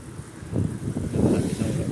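Cool drizzly wind buffeting a moving rider in light rain on a city road, a steady rushing roar that swells louder in the second half.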